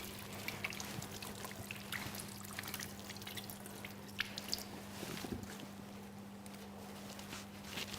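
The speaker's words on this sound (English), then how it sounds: "So I'm using the hand soap with hot water." Hot tap water runs and trickles faintly while hands are washed with hand soap at a sink, a soft, steady splashing wash with light drips, heard alone with a low hum beneath.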